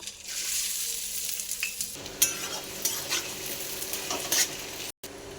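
Spices frying in hot mustard oil in a wok, starting quietly and then bursting into loud, steady sizzling with crackles and spatula scrapes.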